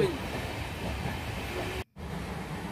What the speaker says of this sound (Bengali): এখনই ট্রেনটা স্টেশন থেকে ছাড়লো